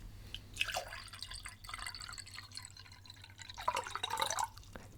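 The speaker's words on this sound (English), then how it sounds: "You then pass him the green liquid and he pours it into the beaker." Green liquid poured into a glass beaker, heard as soft, close trickling and dripping in two bursts with a quiet gap between them, delicate and intimate in tone.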